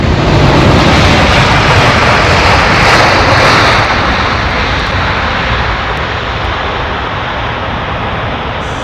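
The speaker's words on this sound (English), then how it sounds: "it's quite rare actually to see a 787 do that kind of reverser action" A Boeing 787 Dreamliner lands on runway 27 right and deploys its thrust reversers, a loud continuous roar that swells and then slowly fades as the jet decelerates, with no voices.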